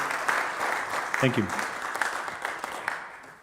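Conference audience applause fills the room in a sustained, fairly loud wash of clapping, while a speaker briefly says a few words over it.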